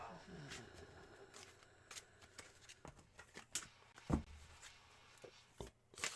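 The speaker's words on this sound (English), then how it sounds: "All right, 6 official shuffles here." Tarot cards shuffled by hand give a series of soft riffling and sharp flicking snaps, spaced irregularly and fairly faint, alongside a person's voice talking.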